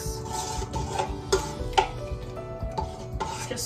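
Teaspoon of honey being mixed into a yeast mixture in a bowl, with soft repeated scraping and clinking strokes, close and fairly quiet, with no talking.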